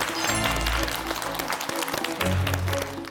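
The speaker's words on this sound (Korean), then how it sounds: "박수!" Studio audience applause on a Korean health talk show, a burst of clapping mixed with voices and a musical sting, loud and close.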